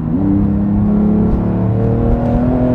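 Manhart TR 900, a 945-horsepower car, accelerating hard at full throttle, a loud, close, continuous engine roar with its pitch climbing steadily throughout, alone with no voices.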